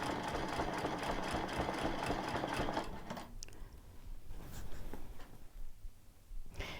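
A sewing machine quilting along a previously stitched line, running steadily and fairly close for about three seconds before stopping, followed by quieter handling and rustling of the quilt fabric.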